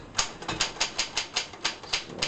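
A 1945 Triumph Norm 6 typewriter typing in red: about nine crisp, evenly spaced key strikes in a steady rhythm, close and clear with no voices.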